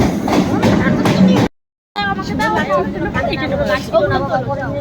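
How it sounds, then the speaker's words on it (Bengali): A train arriving at a busy station platform rumbles under constant crowd chatter, with a brief dead gap in the middle before the noise resumes. "দেখো ট্রেন এসে গেছে, এই ট্রেনে যাচ্ছি"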